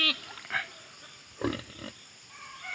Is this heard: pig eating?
yes